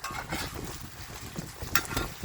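Rehydrated mushrooms frying together with onions in a pan, giving a soft, steady sizzle with light scraping and stirring noises, fairly quiet and close.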